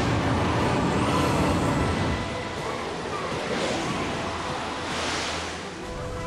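Howling Blizzard spell cast in the game Ni no Kuni: Wrath of the White Witch Remastered, a loud, dense rushing roar like a gale of wind and surf that stays steady, then eases slightly and swells again near the end.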